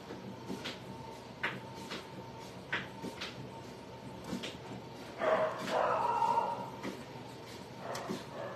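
Dogs bark downstairs in scattered sharp yips and barks, somewhat distant and moderately loud, with a louder, longer burst of noise near the middle.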